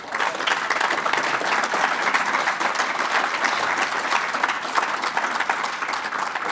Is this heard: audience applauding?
yes